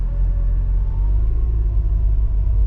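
Nissan Versa with a failing CVT transmission under throttle, a loud deep steady rumble from the engine and drivetrain, continuous and heavy with a slight uneven shudder throughout.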